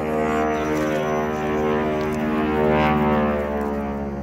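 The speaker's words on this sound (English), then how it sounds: "there's a loud airplane behind us" Loud propeller airplane passing low overhead near a small private airport, a steady droning engine roar with rich harmonic hum that swells slightly toward the end, continuous throughout with no talking.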